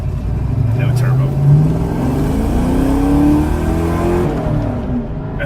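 A throaty Mustang V8 engine with Flowmaster 40 mufflers, no catalytic converters and no turbo rumbles and revs up loudly with deep exhaust tones, pitch climbing then settling, with a voice speaking over it.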